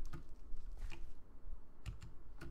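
Computer keyboard typing in quick uneven bursts of light clicks, close and fairly soft, with no talk over it.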